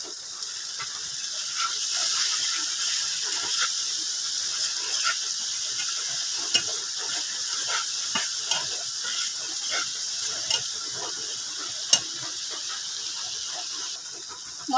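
Spice paste sizzles in a pan after a splash of water, a steady hissing fry with scattered crackles and pops running evenly throughout, fairly close and with no talking.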